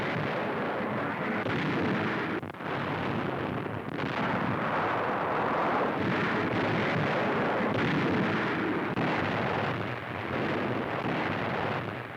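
Naval guns firing to cover a WWII beach landing in Sicily, a steady, dense rumble of heavy bombardment with continuous booming, loud and sustained without pauses.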